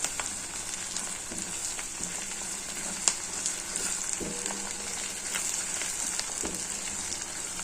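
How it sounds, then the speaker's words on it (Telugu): Cumin and fenugreek powder fry in hot oil for a bitter gourd curry, giving a close, constant crackling sizzle broken by a few sharp spatters and light utensil knocks, with no voices. "వేడి వేడి నూనెలోనే వేయాలి జీలకర్ర మెంతం పొడి"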